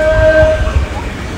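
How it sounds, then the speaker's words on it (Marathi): A Kasara-bound Mumbai suburban local train at Ambivli station gives a brief tonal horn blast over a low rolling rumble, with faint background murmur. "आता आपल्याला कसारा ट्रेन पकडायची आहे"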